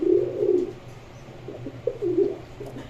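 Domestic pigeons kept as a pet pair coo repeatedly, with soft low rolling calls in several bursts, close and clear over faint background hum.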